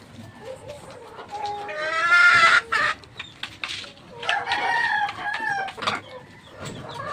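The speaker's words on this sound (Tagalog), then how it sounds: "meron kami mga alagang manok" Backyard pet chickens cluck and crow close by in a run of loud, uneven calls with short pauses between them.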